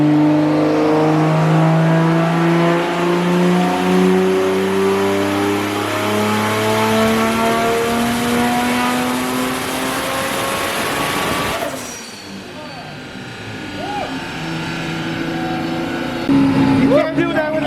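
A Toyota Supra revs hard on a dyno, its engine climbing steadily in pitch for about twelve seconds before cutting off abruptly, followed by quieter shop noise and people talking nearby.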